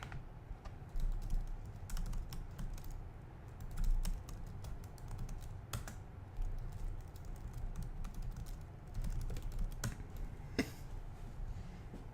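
Typing on a computer keyboard while writing JavaScript code: steady quiet key clicks across the whole stretch with a few sharper taps, set against a low room hum.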